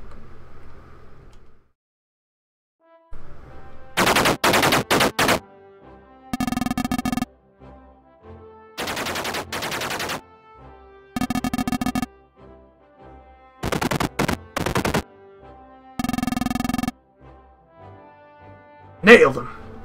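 Gunfire from a tank crew in the retro roguelike game Armoured Commander sounds as loud, synthetic, buzzing bursts of a second or two, separated by short silences, ending with one sharp hit.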